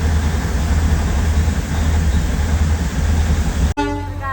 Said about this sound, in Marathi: स्वतः आम्ही फर्स्ट टाइम टॉय ट्रेनमध्ये बसलेले आहे.